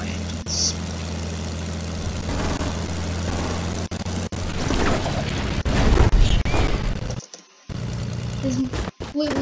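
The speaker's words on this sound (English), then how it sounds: "I want to see you drive the plane" Plane engine in the video game Fortnite, a steady propeller drone running throughout with a few louder swells and brief cutouts, while voices come and go over it.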